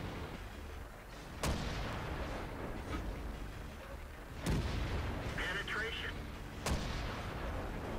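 Shells strike the tracks of a Jagdpanther II tier 8 tank destroyer in World of Tanks, heard as three sharp, heavy impact booms spaced a few seconds apart over a low rumbling battle background.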